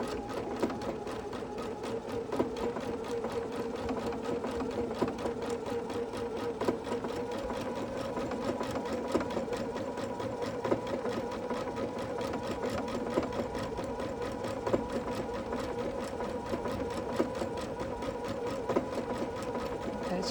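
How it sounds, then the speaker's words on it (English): A sewing machine doing star stitching around a quilt applique runs continuously with a fast, even mechanical whir and rapid needle ticking, close and steady throughout, faint speech occasionally underneath. "I'm doing the star stitching around the applique"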